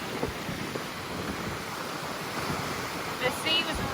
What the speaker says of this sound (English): Can confirm it's windy.